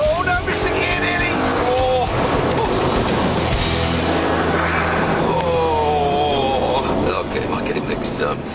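Engines of an Audi R8 and a Porsche 911 Carrera 4S roar and rev hard as the cars launch from a standing start and accelerate, gear changes audible, with excited talking over the top.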